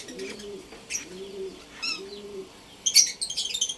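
Soft pigeon-like cooing repeats several times, followed by a burst of bright chirps from small birds, including African lovebirds, close by in a flight cage.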